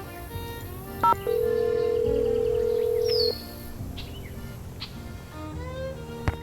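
Telephone dialing in the video game Nancy Drew: The Secret of Shadow Ranch: a short beep and then a steady two-second dial tone, with a faint chirping bird ambience and soft clicks around it.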